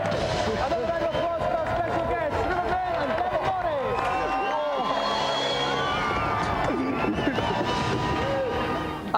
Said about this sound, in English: Another round of applause for our special guests, Rupert and Dewi Morris!